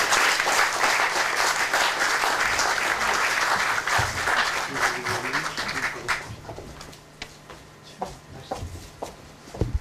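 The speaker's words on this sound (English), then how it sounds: "Why don't we welcome Ambassador Han with a warm round of applause on his behalf" A lecture audience gives a warm round of applause to welcome an ambassador, steady clapping that fades out after about six seconds into scattered claps, shuffling and room noise.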